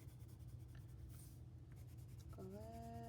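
A colored pencil shades on paper with a steady, soft scratchy rubbing of back-and-forth strokes at close range; a brief tonal hum enters near the end.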